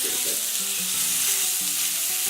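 Ginger steak searing in a hot pan, a steady broadband sizzle filling the whole stretch with faint low tonal hum beneath, loud and close, no talking.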